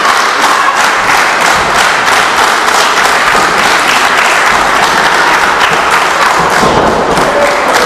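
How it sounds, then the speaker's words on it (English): A wrestling crowd at a women's championship match claps and cheers loudly and steadily throughout, a dense wash of applause with occasional thuds and taps mixed in. "Now the crowd getting behind Autumn Breeze."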